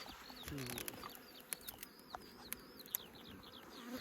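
Honeybees buzz around an opened beehive, a close, steady hum with scattered faint bird calls and a few sharp clicks.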